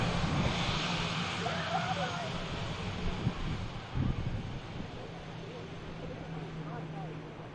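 Air France Embraer airliner at Manchester Airport, its engines a steady broadband roar with a low hum, heard at a distance under wind noise, with a couple of brief thumps near the middle.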